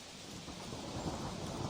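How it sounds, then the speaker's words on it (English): A thunderstorm brings steady heavy rain, with a low thunder rumble rolling underneath, fairly faint and continuous. "Big black clouds rolled across the sky, and the thunders shouted"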